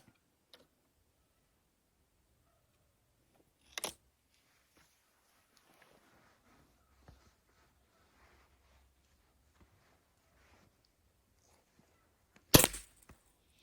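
A Shanghai B1-1 air rifle fires Öztay pellets at ten metres, giving two sharp isolated cracks several seconds apart in a quiet setting with faint ticks between them.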